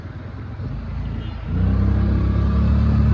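A Destini scooter being ridden, its engine droning close by and growing louder and steadier as it picks up speed halfway through.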